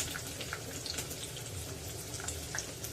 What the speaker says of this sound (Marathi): जिरं फुललेलं आहे आता त्यामध्ये उभा चिरलेला कांदा घालूया